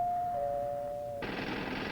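A household doorbell rings: a steady electric tone holds for about a second, then gives way to a harsh, buzzing rattle that continues to the end.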